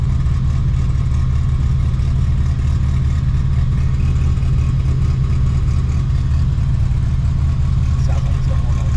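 A heavily modified, very powerful Mitsubishi Evo sits idling, a loud, deep, steady rumble with a lumpy low-frequency throb close by and no revving or breaks.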